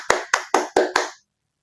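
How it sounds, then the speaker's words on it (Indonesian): Five sharp hand claps in a quick, even rhythm, close and distinct, each with a short ring-out, followed by silence. "Saya kasih tepuk tangan untuk Pak Erick Thohir dan jajarannya PSSI"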